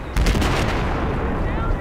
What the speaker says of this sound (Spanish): Y un LV también está disparando para acá.